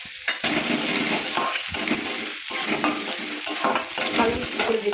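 Chopped onion, garlic and ginger fry in a pan with a loud, close sizzle and repeated spatula scrapes and stirring clinks in an uneven rhythm, with no talking.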